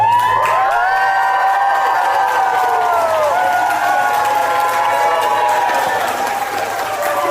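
A large political rally crowd cheers and whoops loudly and continuously as Trump enters, a dense roar of voices with shouts rising and falling throughout.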